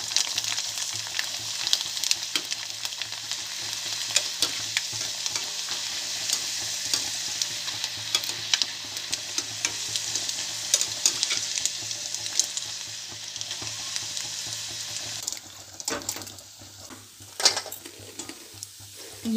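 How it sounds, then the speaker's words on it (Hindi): Rice kachri fry in a pan with steady, close sizzling and occasional stirring scrapes, a constant hiss that briefly thins out near the end; no voices. "हम इन्हें अच्छे से भून लेते हैं।"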